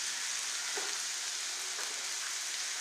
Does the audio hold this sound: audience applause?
no